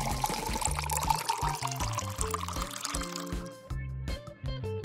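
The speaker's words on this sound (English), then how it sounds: "Fill it with water." Water pours steadily into a bowl set inside a larger bowl of cooked instant noodles, a continuous close splashing and gurgling stream whose pitch shifts as it fills.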